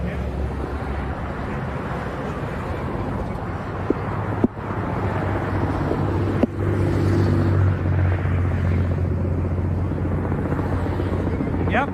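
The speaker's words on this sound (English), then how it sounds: "And that's the helicopter that's following them." A helicopter tracking a trucker convoy on a highway gives a steady, loud rotor drone throughout, with low engine rumble from passing trucks and a couple of brief knocks, and people talking nearby.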